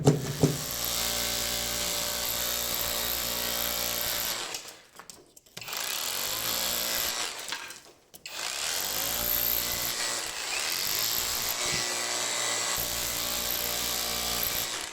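A loud, continuous power-tool roar of a WOSAI cordless rotary hammer boring into a hole, with two brief pauses before it resumes steadily.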